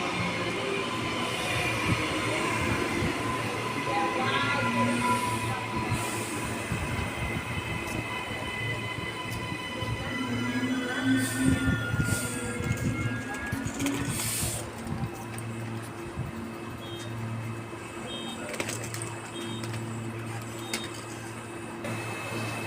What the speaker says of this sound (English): It is another New Generation Rolling Stock train.